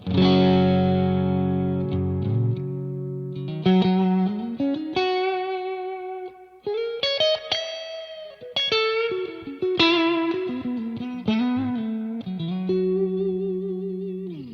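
An electric guitar plays through a TINY V4 stereo rig with reverb and tremolo on both sides, ringing out sustained notes and chords with pulsing wobble and lingering tails, clear and close with no talking.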